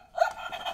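A robot toy dog gives a short electronic bark, a single clipped yelp standing alone and fairly close.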